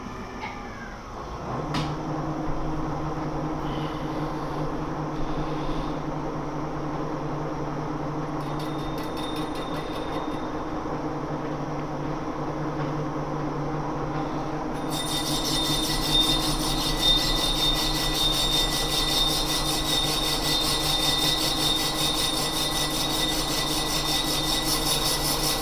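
A lathe turns a bronze workpiece with a high-speed steel bit, giving a continuous mechanical hum with a sustained whine from the cutting. Partway through, a brighter, hissing layer comes in and stays to the end.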